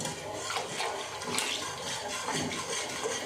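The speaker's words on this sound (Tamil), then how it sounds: "இப்போ நம்ம கரைச்சி வச்சுருக்க மாவு அதில் ஊற்றிக்கலாம்" Ragi flour batter pours steadily into water while being whisked, a continuous watery splashing and swirling close by with no talk.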